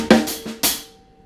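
Two drum hits of a groove's second and third beats, played slowly: a few sharp, loud strikes with ringing decay, spaced apart and ending in a fading tail, no talk.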